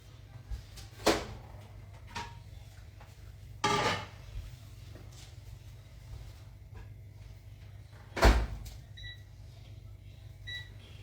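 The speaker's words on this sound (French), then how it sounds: "j'ai repris mon popcorn que je vais mettre dans mon micro-ondes" A bag of popcorn going into a home microwave oven: a few sharp knocks and door clunks spaced several seconds apart, then a short run of electronic keypad beeps near the end, over a faint steady hum.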